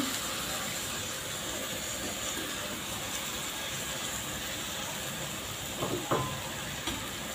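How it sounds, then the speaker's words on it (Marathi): Field beans dropped into a pan of sizzling sautéed masala with turmeric, giving a steady broad hiss throughout, with a couple of brief louder sputters near the end. "तर इथे मी पावटे घालते."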